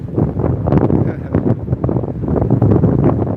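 Strong wind buffets the microphone on the Chicago lakefront along Lake Michigan, a loud, continuous roaring rush with gusty swells throughout.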